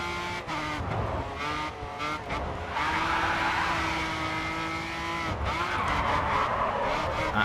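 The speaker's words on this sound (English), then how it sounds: "this Volvo feels slow. Sounds like a little go-kart or something, man." Volvo car in the racing game Grid 2, a buzzy, thin engine revving loudly throughout with tires skidding and squealing through corners, no talking.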